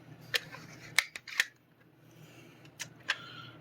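A modded Dart Zone Storm Squad foam dart blaster fires, giving a few sharp, quiet clicks and snaps close by in a quiet room.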